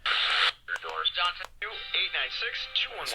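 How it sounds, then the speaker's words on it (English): A Horologe H-198 AM/FM stereo portable pocket radio being tuned across stations, giving short bursts of broadcast voices and music that shift and cut off abruptly, fairly loud and close. "tune this and see if we can pick up any stations"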